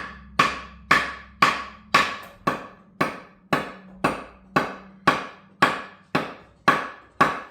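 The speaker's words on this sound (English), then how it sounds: "I don't use a hammer, I use a piece of wood." A piece of wood strikes a cottonwood stick over and over to split it for a natural wood flute. Fourteen sharp, evenly spaced knocks ring out at a steady, drum-like pace, close and loud, each with a short decay.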